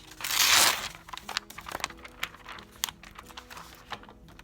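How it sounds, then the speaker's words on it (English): A page being torn out of paper, a loud crinkling rip up front followed by scattered small crackles and rustles of handling, close and alone. "So I'm going to tear out a page."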